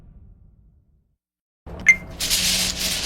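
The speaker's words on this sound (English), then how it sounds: "apologies for the noise of this tinfoil." Tinfoil handled and crinkled close up: after a quiet start and a pause, a sudden bright rustle with a sharp crackle, then continuous loud crumpling to the end.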